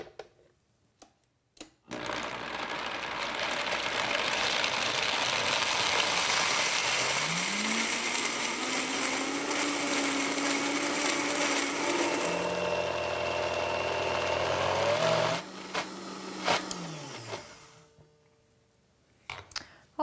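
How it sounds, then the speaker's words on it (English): A kitchen blender whirs steadily while blending cheese smooth for a fruit pizza crust base. The motor pitch climbs and shifts partway through, then the sound cuts off near the end, with a few clunks before and after. "we're just going to blend this up until it's smooth and creamy"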